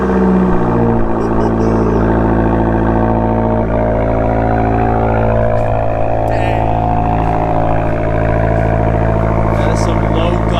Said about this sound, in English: we're gonna cold start on the Fiat Abarth